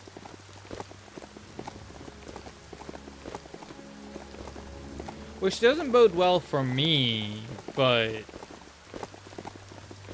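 Rain falls steadily in the video game Biomutant, soft pattering with faint clip-clop steps, while a voice talks over it in the middle of the stretch.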